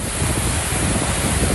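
Sea waves break against the Pingtung coast in Taiwan after a typhoon, a steady, dense roar of surf with wind buffeting the microphone throughout.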